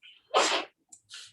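One sharp sneeze, preceded by a short inhaled breath and followed by a brief sniff, close and loud in a quiet room.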